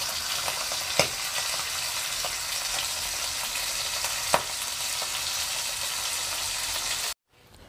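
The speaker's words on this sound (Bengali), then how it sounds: "এবারে এটাকে ভালো করে ভেজে নেওয়া হবে।" Hilsa fish fry in hot oil in a wok, giving a steady, close hiss of sizzling broken by a couple of sharp clicks from the pan, with no voices.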